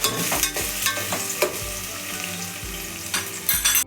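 Chopped onion and a few green chillies sizzle in hot oil for a mutton curry, a steady crackling fry broken by stirring scrapes.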